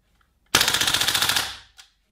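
A very old, battered Tokio Marui AK-47S airsoft electric gun fires one fast full-auto burst of about a second, a loud, even rattle of rapid cracks that fades out, then a brief softer clatter right after.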